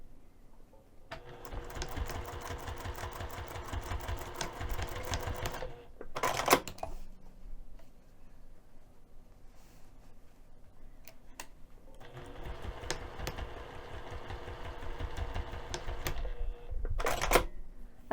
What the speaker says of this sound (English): we're going to stitch a line of stitching 1/4 inch up from the bottom edge of the tab